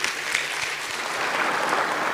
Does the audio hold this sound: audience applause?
yes